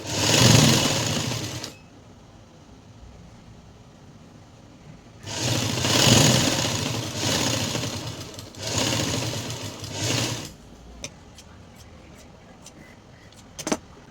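A sewing machine stitches pencil pants in short bursts: a loud whirring run, a pause, then two longer runs close by, followed by a few light clicks and taps.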